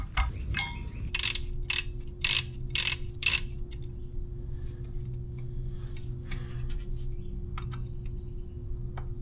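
Flywheel bolts being torqued down on a Porsche 944 engine during a rebuild: a few sharp ratcheting clicks up close, followed by a steady mechanical hum and occasional faint ticks.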